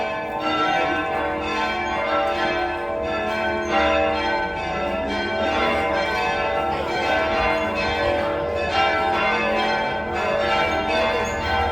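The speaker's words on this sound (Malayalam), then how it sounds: "ആ മണിയടി ശബ്ദം കേട്ടോണ്ട് ഞാൻ പോട്ടെ." Church bells ring continuously in Assisi, several bells clanging and overlapping in a dense, resonant peal that stays steady and fairly loud for the whole stretch, with no talking.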